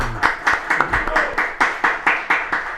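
Audience applause welcoming Cuban ambassador Francisco Fernández Peña, heard as a steady run of rhythmic, evenly spaced claps, fairly loud and close, lasting a few seconds with no talk over it.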